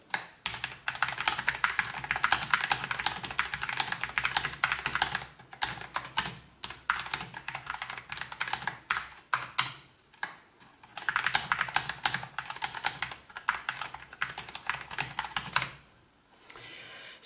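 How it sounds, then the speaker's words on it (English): Typing on a Cooler Master SK630 keyboard, with steady bursts of keystrokes running almost the whole time, pausing briefly around ten seconds and tapering off near the end, close and clear with no voices. "let's see how it actually feels to type on the SK630."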